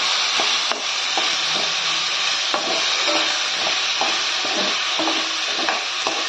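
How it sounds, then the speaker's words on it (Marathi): Onion and tomato fry in a pan for a Maharashtrian onion-and-coconut masala, giving a steady close sizzle and hiss with scattered stirring scrapes and clicks throughout. "टोमॅटो पण चांगलं मऊ होईपर्यंत भाजायचं."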